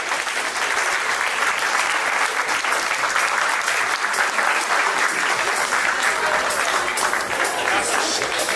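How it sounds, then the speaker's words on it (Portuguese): An audience at an education event gives a strong round of applause for the Minister of Education, a continuous, loud wash of clapping from many hands lasting the whole stretch without a break. "Un fuerte aplauso para nuestro ministro."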